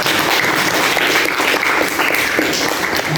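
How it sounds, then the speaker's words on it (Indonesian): A classroom of students applauds a classmate, with steady, dense clapping that stays loud and even for about three seconds before stopping abruptly. "Tepuk tangan untuk Najwa."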